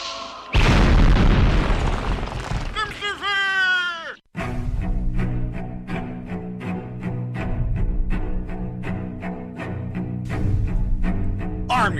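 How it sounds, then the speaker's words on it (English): Holy hand grenade from a comedy film going off as a loud boom, followed by a run of rhythmic percussive hits with sustained low tones over about eight seconds. "Brother Maynard, bring up the holy hand grenade"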